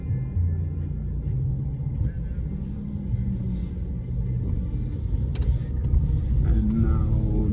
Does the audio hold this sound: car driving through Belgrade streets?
yes